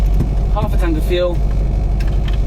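A 1979 Mini Clubman engine idles with a low, steady rumble close by, mostly under someone talking.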